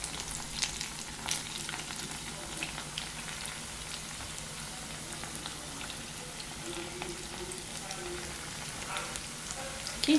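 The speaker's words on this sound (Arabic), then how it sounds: "دوكا هنايا البوراق تاعي نبدا نقلي فيه" Bourek pastries frying in hot oil, a steady faint crackling sizzle that runs the whole time, with a few louder pops and spatters.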